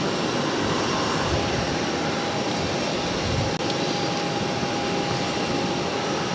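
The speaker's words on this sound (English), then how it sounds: "here comes the noisy plane. The Pilatus PC's coming." A Pilatus PC propeller aircraft arrives at Boston Logan airport, its engine a loud, steady broadband roar with a thin droning tone that holds unbroken for several seconds, with no talk.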